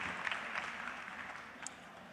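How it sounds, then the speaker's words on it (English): Crowd at a university commencement ceremony on the St. Thomas campus in the Virgin Islands giving a round of applause, a steady, fairly faint and distant wash of clapping from a large audience. "Please give her a round of applause."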